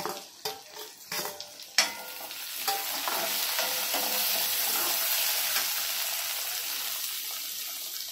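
Chopped tomatoes hit hot oil with onions in a pan and set off a loud, steady sizzle that keeps going, after a few stirring clatters at the start.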